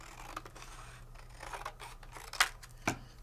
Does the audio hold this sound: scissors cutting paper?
yes